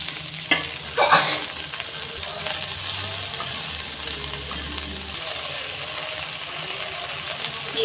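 Chopped green chillies and onion greens sizzle and fry in a pan, with a couple of sharp stirring scrapes early on, then a steady, moderately loud hiss that carries on to the end.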